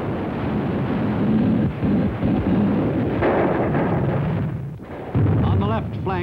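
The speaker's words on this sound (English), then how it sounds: "In the face of withering enemy fire, they pushed ahead." Artillery and gunfire thunder through a WWII battle on Palau as Marines push inland, heavy rumbling blasts and crackling shots in a dense continuous barrage, loud and close, with a voice speaking over it.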